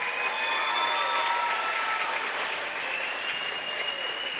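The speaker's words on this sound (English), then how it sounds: "Let's give one more round of applause for the 2026 basketball homecoming court." Sustained crowd applause in a school gym for the basketball homecoming court, steady and full throughout with scattered whistles or cheers riding on top.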